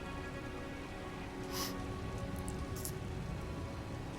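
Steady rain falls on the ground in Elden Ring's Shaded Castle, a dense, even patter throughout with a few brighter splashes standing out, no voices.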